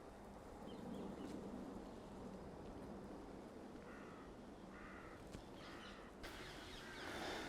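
Crows caw in a run of short repeated calls over a steady outdoor wash of background noise in a catacomb graveyard, with no one speaking.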